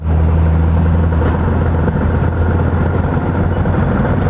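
A GS motorcycle engine fitted with a Ninja RR carburetor and a new manifold runs steadily close by, with a continuous low rumbling drone and a whirring mechanical tone throughout, and no talk.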